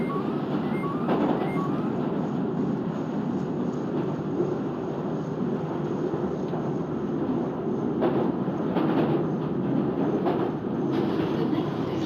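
Northern line train on the London Underground in the OpenBVE train simulator, a steady loud rumbling run with a constant broad roar and brief higher clanks, no speech.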